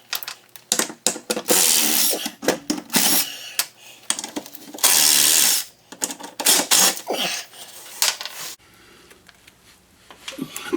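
A power tool whines in short bursts while 10mm bolts come out of an aluminum diamond-deck skid plate on a 2013 Polaris RZR 570, with rattling, clinking metal between the runs, close and fairly loud.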